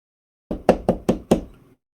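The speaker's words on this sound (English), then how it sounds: "So Flora knocks." Five firm knocks land on a door in an even, measured rhythm, each loud and close with a short ring after it, set against silence.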